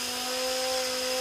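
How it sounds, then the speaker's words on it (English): A steady, high-pitched pneumatic whine of a dual action air sander with a fine-grit disc running continuously at close range, with a constant tonal hum and no voices. "This is a little dual action air sander"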